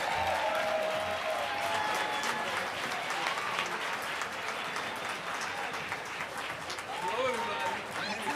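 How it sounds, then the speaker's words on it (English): Guests at an Italian Heritage reception at the mayor's event give a warm round of applause to welcome the PAL Cops and Kids Chorus, a continuous patter of clapping with scattered voices and cheers over it. "let's welcome them with a huge round of applause"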